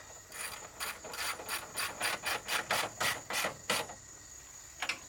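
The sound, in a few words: ratchet wrench tightening nuts on Jeep Wrangler fender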